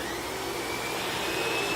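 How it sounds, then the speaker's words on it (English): A Lindhaus Valzer Eco Green upright vacuum, with separate brush and suction motors, runs at a steady, loud whine with a constant hum and no talking over it. "You think about your upright vacuum, 2 motors, motor down there for the brush,"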